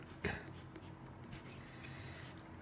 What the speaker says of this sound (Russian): Потом переворачиваем, пишем здесь то же самое.